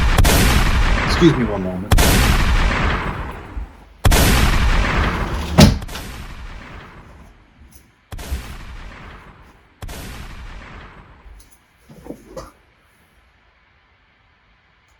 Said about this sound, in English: Kept hearing gunshots outside.